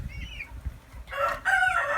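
Chickens in a backyard flock cluck and give short calls, a soft call first, then louder clucking near the end, with a faint low rumble beneath.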